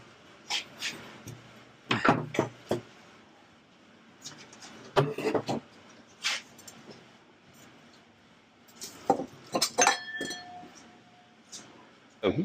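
Beer glasses clink at a keezer in a party barn, several sharp bright taps scattered among people talking and chatter nearby.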